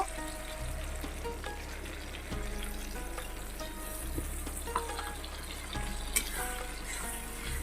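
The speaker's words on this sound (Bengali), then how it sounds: "এই পর্যায়ে আমি দিয়ে দেবো আদা জিরে আর হলুদ গুঁড়ি এটাকে দিয়েও খুব সুন্দর করে আমি কষিয়ে নেব" Ginger, cumin and turmeric fry and sizzle in a pan while being stirred, a steady close hiss with scraping and clinking of the spatula, no voices.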